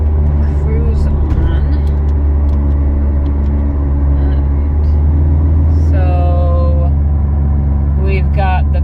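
A 2006 Mitsubishi Outlander cruising at a little over 50 mph on cruise control, with a steady low road and engine rumble inside the cabin and someone talking over it.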